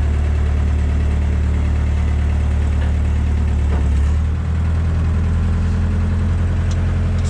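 Steady, loud low-frequency drone of a P42 mini excavator's engine idling and labouring as its four wheels spin in mud, with a slight shift in pitch partway through and no talk.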